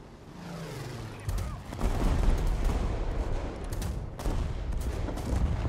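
Twin 47mm cannons fire at aircraft in a video game, delivering a run of heavy booming shots that overlap into a rolling barrage, moderately loud.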